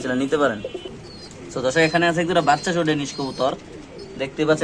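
Danish pigeons coo nearby at a fancy pigeon farm in Bangladesh while someone talks over them, the soft rolling calls mixing in and out of the speech.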